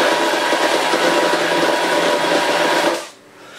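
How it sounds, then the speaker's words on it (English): Buffalo cutter running for hot dog meat, a loud steady whirring, chopping roar that holds for about three seconds, then cuts off abruptly. "Now I have the buffalo cutter ready to use them."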